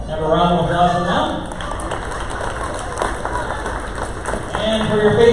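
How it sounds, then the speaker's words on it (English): Crowd applause for the visiting Merritt Academy girls' varsity team at a school basketball game, a dense wash of clapping under a loud announcer's voice, swelling again toward the end. "Have a round of applause for them"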